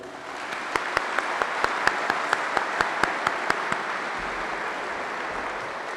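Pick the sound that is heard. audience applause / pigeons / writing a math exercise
audience applause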